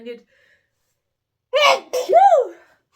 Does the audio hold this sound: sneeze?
yes